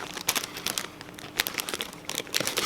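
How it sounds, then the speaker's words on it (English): Loud, continuous crinkling of a plastic candy bag being pulled and twisted open, with crisp crackles and a few sharper tearing bursts, close by. "So I'm gonna open the bag"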